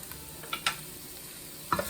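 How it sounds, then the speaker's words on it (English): Onions saute in hot oil in a Dutch oven, giving a faint, steady sizzle with a few soft scrapes and taps from a wooden spoon stirring, close by and without voices. "We're going to go ahead and put our onions in here. And we're going to start sauteing those for just a minute."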